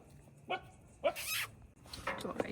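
A dog outside a house at night barks a few times in short, sharp bursts, close by and fairly loud, with people talking over and between the barks.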